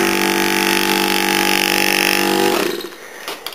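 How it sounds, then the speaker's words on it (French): An opened, disassembled refrigerator compressor, plugged in and running, gives a steady mechanical hum and whine for a few seconds before cutting off, close and loud with no talk. "Il est intéressant de noter la différence de bruit entre un frigo normal et le compresseur tout seul mais ouvert."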